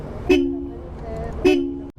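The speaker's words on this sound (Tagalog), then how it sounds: "Ito guys yung stock horn na ito" Two short, bright beeps from an ADV scooter's stock horn about a second apart, close and clear over a low engine hum.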